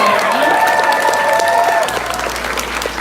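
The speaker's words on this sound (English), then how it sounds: "So I'd like to give a warm round of applause for all the volunteers who helped us out this year." A convention crowd at closing ceremonies breaks into warm applause with some cheering, a loud continuous patter of clapping with scattered voices mixed in, easing slightly toward the end.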